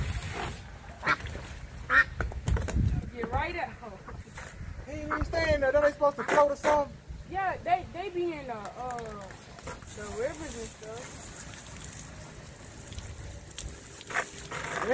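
Ducks quack in a run of close, nasal calls in the middle stretch, with people talking over and around them outdoors.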